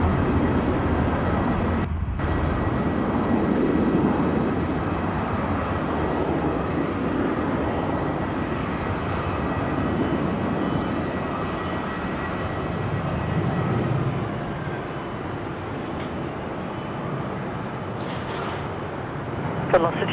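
A plane lands at Sydney Airport on runway 16 right at night, its engines giving a steady broad roar that swells gently and holds for about twenty seconds, with faint radio chatter under the noise.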